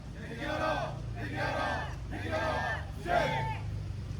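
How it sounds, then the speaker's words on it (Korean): Protesters at a Seoul bus union press conference chant a slogan in unison, several loud rhythmic bursts of many voices separated by short pauses over a low background rumble. "구호는 끝에 구호만 3번 반복하도록 하겠습니다."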